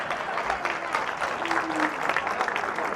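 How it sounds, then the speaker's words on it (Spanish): A church congregation claps steadily in a sustained burst of applause for the men during a sermon, a dense crowd sound that fills the whole stretch, with some voices mixed in. "Un aplauso para los hombres."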